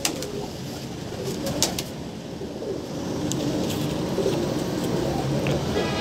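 Pigeons cooing on a rooftop, a soft continuous murmur of low calls with occasional wing flutters and faint background noise.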